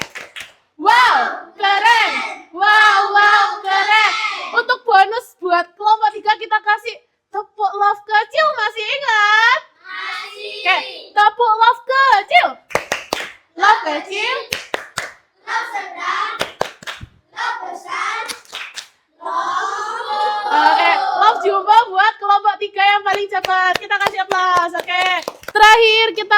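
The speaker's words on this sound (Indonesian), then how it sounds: "Kita kasih tepuk." A group of schoolchildren clapping hands in rhythmic patterns during a classroom activity, bursts of claps mixed with children's voices and chanting.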